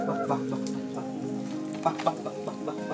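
Chickens cluck in a muddy outdoor yard, short scattered calls close by over a steady rainy background hiss.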